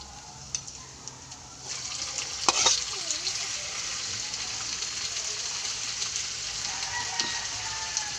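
Squid (nukos) frying in a pan, a steady broad sizzle with scattered pops and brief clinks of stirring, fairly close and moderately quiet, no talking over it.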